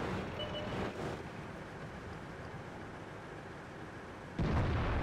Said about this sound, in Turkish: Güzel atış. Güzel atış olacak tabii ben yaptım.